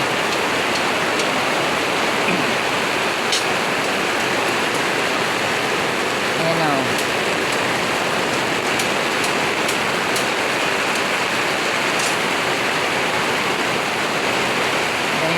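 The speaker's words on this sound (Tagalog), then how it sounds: "Sa nabutan kaming ulan sa trabaho namin" A steady, dense roar of heavy rain pours without a break on a construction site, loud and close, like water drumming on surfaces all around.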